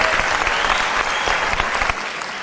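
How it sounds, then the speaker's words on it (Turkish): Studio audience applause on a Turkish television show, a dense burst of clapping throughout that eases slightly toward the end, with no speech over it. "alkışlıyoruz"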